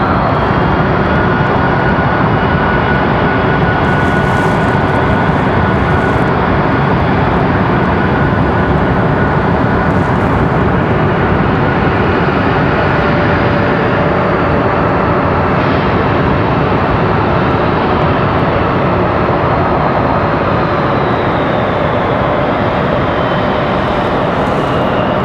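A Republic Airways airliner's engines hum in a loud, steady, unbroken drone close by as the jet waits for a gate at Raleigh-Durham International Airport.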